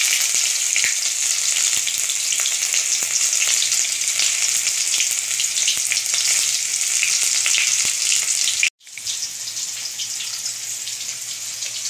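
Chopped tomatoes fry in a pan with a steady, close hiss of hot-oil sizzling that runs without a break for the whole stretch, dropping out for a brief instant before picking straight back up.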